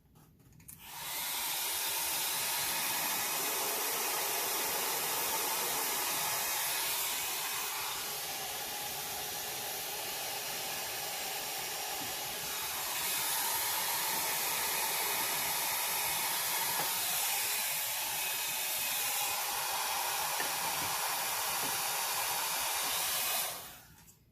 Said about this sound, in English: I just kept my dryer back away from the actual circle so that it's not pushing that ink too far